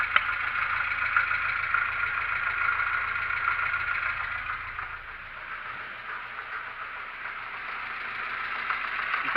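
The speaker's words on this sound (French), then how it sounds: "moteur bien chaud et qui tourne bien" Warm car engine idling unevenly with a persistent knocking noise, a steady close mechanical rattle whose level dips briefly midway before returning.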